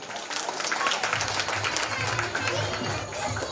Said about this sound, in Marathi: जरा टाळ्यांचा आवाज द्या